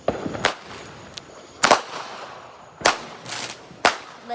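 Firecrackers and fireworks go off in a series of sharp, loud bangs, about five or six separate cracks spaced irregularly with brief crackling tails and quiet gaps between them.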